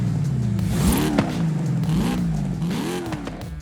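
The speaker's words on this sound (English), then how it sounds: "There's no way an SRT Hellcat sounds like that." A Dodge SRT Hellcat engine in a video game revs loudly and continuously, with rising and falling pitch sweeps as the car accelerates and shifts, and a brief clatter near the start.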